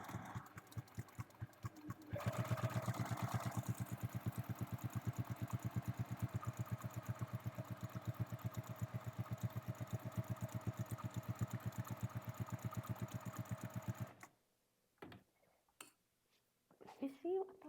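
A home sewing machine with a compensator foot stitching a pocket down on a fabric bag, a fast, even mechanical chatter running steadily for about twelve seconds, then stopping to quiet handling clicks.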